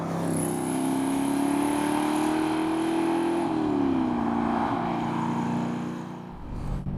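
A DeTomaso Pantera GT5 engine pulls steadily under load while driving, a continuous loud drone whose pitch climbs gradually, dips slightly, then settles before easing off near the end.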